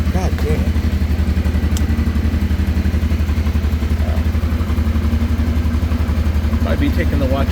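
A 1989 Honda Transalp 600V motorcycle idles steadily after a cold start, its engine loud and close with an even, rapid pulsing throb that holds throughout, plus occasional light clatter.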